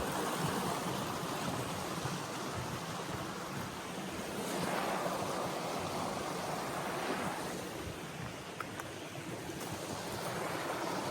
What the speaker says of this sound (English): Pretty big, well, I guess it's called the river, Winhaw River. But there's a big old footbridge going across.